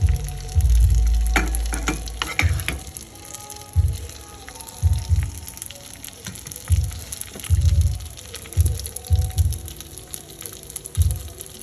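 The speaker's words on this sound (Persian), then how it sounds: "پیاز رو باش اضافه میکنیم میذاریم که قشنگ تفت بخوره" Chopped onion fries in a pan for a quick baked pasta dish, a steady close crackling sizzle broken by louder scraping and stirring thumps, with no talk.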